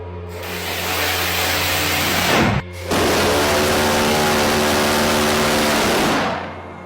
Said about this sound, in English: CRAM, an advanced automated point defense Gatling gun.